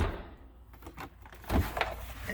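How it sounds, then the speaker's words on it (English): A small fridge drawer slides open inside the cab of a 2023 Freightliner Cascadia truck, making a soft rolling scrape followed by a louder thump and rattle partway through, with quiet cab ambience around it. "And the fridge. A little drawer."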